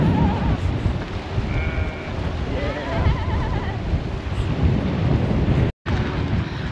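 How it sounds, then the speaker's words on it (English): Sheep bleating in open Icelandic countryside near a waterfall, a few wavering baas rising over loud, constant wind or water roar. "I hope you could hear that baa."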